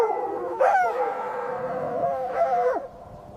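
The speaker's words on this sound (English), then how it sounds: "It's a fox." A fox gives two wavering, howl-like cries, close and loud, with a steady background hum between them.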